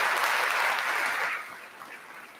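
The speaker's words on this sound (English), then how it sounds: "Let's have a round of applause for both ProMedica Monroe and the Community College" Audience applause at a 2022 Monroe County Middle College graduation ceremony for ProMedica Monroe and the community college: dense clapping that holds loud for over a second, then thins and fades lower.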